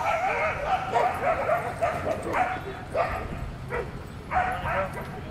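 Dogs and puppies at an outdoor water spot give short yips, barks and whimpers in uneven bursts, mixed with a voice talking over them.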